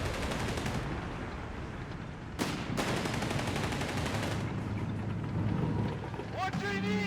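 Gunfire and explosive weapon bursts rattle through a Company of Heroes 3 battle between Afrika Korps and British forces, including bazooka fire, with rapid overlapping shots, a sharp loud blast partway through, and a caster talking over the action.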